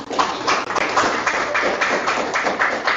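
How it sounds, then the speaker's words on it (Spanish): A church congregation claps along steadily for about three seconds, a dense, rhythmic patter of many hands at moderate loudness with no speech over it. "Dale un fuerte aplauso al Señor."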